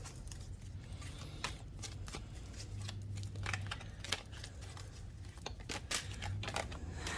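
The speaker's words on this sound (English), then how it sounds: "I'll give them a little shuffle too." Lover's Oracle cards are shuffled by hand in a quiet room, soft rapid riffling and flicking with irregular crisp ticks over about seven seconds, no voice.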